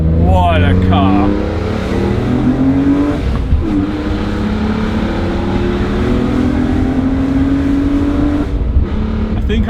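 A BMW E46 M3 CSL sports car engine revs and accelerates steadily, its pitch rising and falling, with a person speaking over the continuous motor drone.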